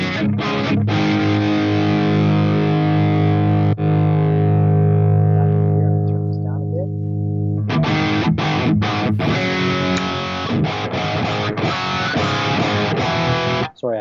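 An electric guitar runs through a Fractal Axe FX modeled amplifier and cabinet with no other effects. A long, loud distorted chord rings out and decays, then choppy, muted rhythmic strums follow, all close and without talk.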